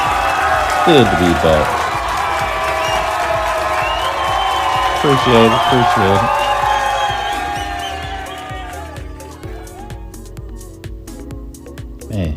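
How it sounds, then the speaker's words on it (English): Simulated crowd cheering and applause, a steady loud roar of clapping and shouting that thins out toward the end, with someone talking over it. "just being able to simulate people cheering for you was just absolutely awesome"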